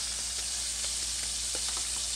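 Striped bass coated in cornstarch deep-fries in a pan, giving a steady, dense sizzle with small bubbling pops throughout, close and even in volume.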